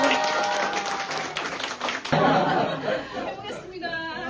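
Crowd applause and some laughter at a campaign office opening event in Korea, welcoming a haegeum performance. Many hands clap under chatter and voices, and the clapping thins toward the end as a tone begins.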